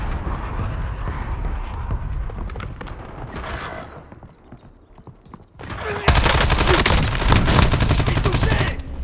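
Gunfire in Call of Duty Warzone, with rattling bursts of shots under game voice lines, a brief lull, then a loud sustained barrage of rapid automatic fire.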